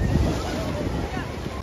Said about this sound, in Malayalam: തിരമാലകളുടെ ശക്തി കൂടി തുടങ്ങിയിട്ടുണ്ട്.